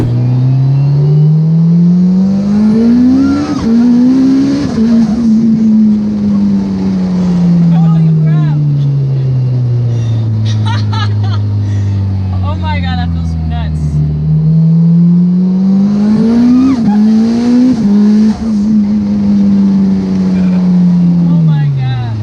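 A tuned 808 hp Mitsubishi Evo VIII running 47 psi of boost accelerates hard on the street, engine pitch climbing in long loud sweeps with gentle, unhurried gear changes before rising again.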